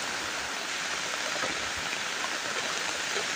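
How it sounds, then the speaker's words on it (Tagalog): Heavy rain pours steadily onto a tarp shelter outdoors, a constant even hiss with no pauses and no voices. "malakas na yung buhos ng ulan."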